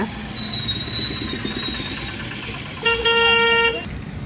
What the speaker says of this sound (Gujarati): ટ્રાફિક એટલે ટ્રાફિક ગજબનું ટ્રાફિક છે